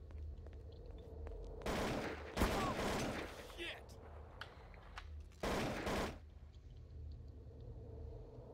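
Bursts of rapid automatic gunfire in the video game Garry's Mod, two dense volleys of a second or so each over a low rumbling background, with quieter scattered noise between.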